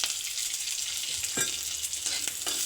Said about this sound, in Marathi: तेल गरम झालं, आपण कांदा भाजून घेऊ.